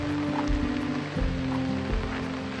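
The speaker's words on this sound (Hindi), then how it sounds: "यहाँ पर कॉन्टिन्यूस बारिश हो रही है" Continuous rain hisses over a low, steady hum on a temple road trip at Kainchi Dham, with occasional splashy drops close by.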